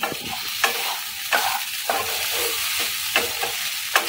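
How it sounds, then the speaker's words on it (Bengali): Sabudana khichdi being stirred in a frying pan, with a steady sizzle under a series of sharp spatula scrapes and taps spaced roughly every half second to second, close and fairly loud, no voices. "ভালো করে নেড়ে চেড়ে নেব।"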